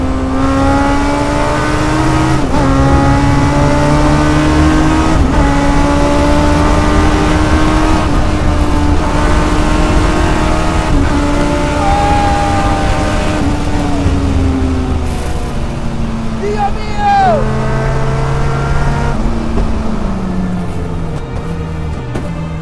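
Westfield Megabusa with a Suzuki Hayabusa engine (200 hp, 475 kg, six-speed sequential gearbox, rear-wheel drive) revs hard while driving, a loud, close, high-pitched howl rising and falling through gear changes for over twenty seconds without a break.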